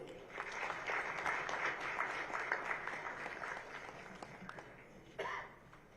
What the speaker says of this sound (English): Let's welcome all the guests with a round of applause